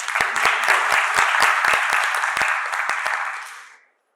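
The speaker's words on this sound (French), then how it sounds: "je pense qu'on devrait vraiment les applaudir" An audience at a talk on school inclusion and autism claps for mothers, a loud burst of close applause with crisp individual claps standing out, tapering and cutting off near the end.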